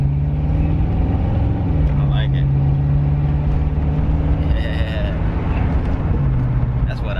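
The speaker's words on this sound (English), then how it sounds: "Let me roll the window down a little bit so you can hear that growl." A 1989 Chevy Caprice with a small-block 305 V8 and Flowmaster Delta 40 mufflers exiting out the side rumbles with a deep, steady exhaust drone heard from inside the cruising car, with voices talking over it.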